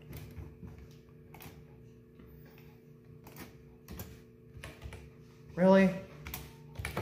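Typing on a computer keyboard produces scattered, faint clicks in an irregular rhythm, with a brief spoken voice near the end.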